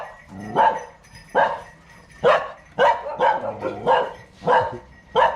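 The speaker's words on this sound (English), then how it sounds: "That's our neighbor's dog." A neighbor's dog barks repeatedly, about eight sharp barks at a steady, fairly close rhythm, with no talking, at a home in Ban Chang, Rayong, Thailand.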